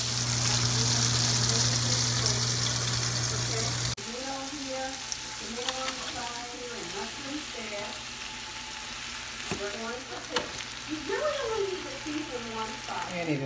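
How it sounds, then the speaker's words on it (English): Butter and olive oil sautéing in a pan during home family cooking, a steady close sizzle and crackle running throughout, shifting in texture partway through, with faint voices at times. "that is butter and olive oil that is being kind of semi-fried"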